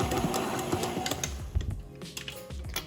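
A KitchenAid stand mixer churns banana bread batter with chocolate chips, giving a close, busy mechanical whir with irregular clattering knocks throughout.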